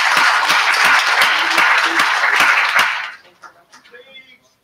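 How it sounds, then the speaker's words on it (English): An audience at an IETF104 SECDISPATCH meeting claps in a dense round of applause for about three seconds, then it thins out into a few scattered claps and stops. "So let's have a round of applause to welcome her in."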